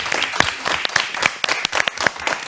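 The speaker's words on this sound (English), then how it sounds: "clapping for everyone here and everyone who's watching" Scattered clapping from a studio audience at the final Rooster Teeth charity stream celebrating funds raised, brief uneven claps close by with a voice faintly mixed in.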